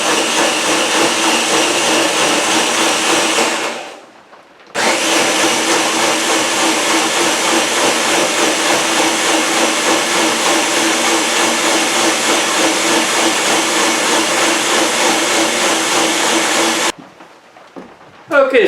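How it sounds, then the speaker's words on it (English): A blender runs loud and steady while blending homemade Rum Chata ingredients, with two brief pauses where the motor cuts out and restarts, no talk over it. "So what we want to do is we want to blend this well"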